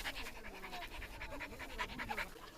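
A strong, well-trained dog that is fond of people pants steadily and close by, in quick rhythmic breaths with faint whimpery tones, and no one speaks.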